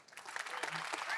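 Audience at an Australian crypto convention applauding for a man named Fred, a short, faint burst of clapping from a crowd with a voice mixed in.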